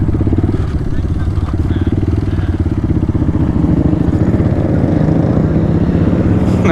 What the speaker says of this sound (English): He's got a dirt bike.